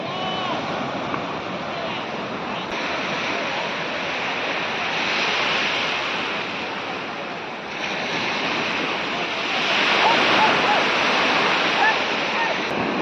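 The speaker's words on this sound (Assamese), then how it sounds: "এই হৈছে মুম্বাইৰ বিখ্যাত জুহু বীচ" Sea waves wash onto Juhu Beach in Mumbai, a broad continuous roar of surf with wind that swells and recedes throughout.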